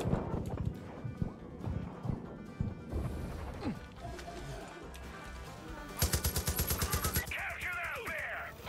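Gunfire in the video game Far Cry 5: scattered shots and crashes early on, then a rapid automatic burst of evenly spaced shots, all fairly close over game background noise.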